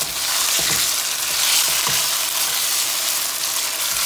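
Chicken pieces go into a pan for chicken macaroni and fry with a loud, steady, close sizzle, with a few faint scrapes of stirring underneath.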